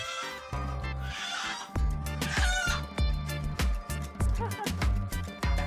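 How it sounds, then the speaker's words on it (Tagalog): Native chickens cluck and squawk close by in a busy, irregular series of sharp calls, loud and agitated with some background noise. "narinig namin na may nahuli ng native na manok"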